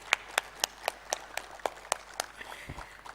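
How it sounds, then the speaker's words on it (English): Sparse, rhythmic claps ring out from a panel discussion audience welcoming the panelists at a health forum, about a dozen distinct hand claps at a steady pace, moderately loud, fading into softer scattered claps. "I open the forum of the panel today with a big round of applause"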